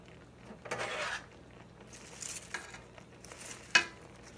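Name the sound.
food being put into a cooking pot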